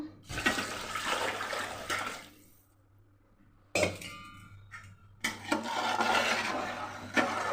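Water from glasses splashes into a cooking pot for pressure-cooker chicken fry pulao, in three separate pours with short quiet gaps between them, fairly close and with a slight metallic ring.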